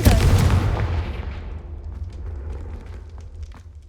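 A fiery Confringo blast spell from Hogwarts Legacy, a loud, close booming explosion that hits hard at the start and then rumbles and crackles away over a few seconds.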